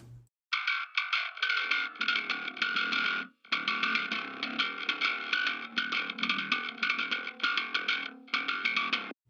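A heavily processed, distorted bass guitar plays a busy run of plucked notes with a bright, clicky attack, stopping briefly before continuing.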